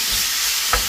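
Ground meat and minced garlic sizzle loudly in a pan, a steady close frying hiss with a brief scrape as the mixture is stirred near the end, with no talking.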